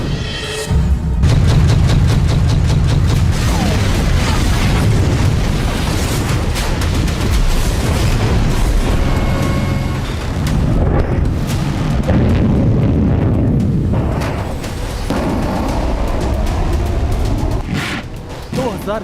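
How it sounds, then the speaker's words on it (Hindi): Ballistic missile strike explosions in Israel, heavy booming blasts and rumbling debris layered under dense, loud noise over a sustained stretch, with a voice faintly audible in the mix. "हूती विद्रोहियों ने इजराइल में बैलिस्टिक मिसाइल से तबाही मचाई।"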